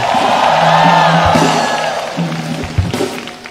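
A large congregation at a healing service claps and shouts, a dense, loud wall of crowd noise with cheering voices rising and falling throughout.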